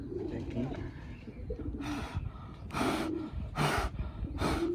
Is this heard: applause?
no